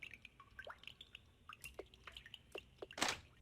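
Water drips in an RPGMaker horror video game: scattered, faint single plinks fall at an uneven rhythm, ending with a brighter splash near the end.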